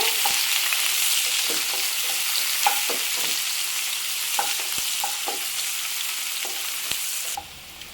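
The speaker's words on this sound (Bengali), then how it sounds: "পেঁয়াজ আর রসুনটা হালকা করে ভেজে নেব" Chopped onion and garlic sizzle steadily in hot oil in a wok for an egg Manchurian, with scattered soft clicks of stirring and a slight drop in hiss near the end.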